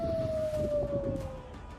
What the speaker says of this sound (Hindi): तब पूरे इलाके में युद्ध के सायरन बज रहे थे